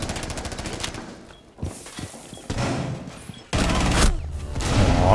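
Gunfire in Rainbow Six Siege, including a suppressed shotgun, comes as bursts of sharp shots separated by brief gaps and busier stretches of clatter, loud and fairly close with no talk.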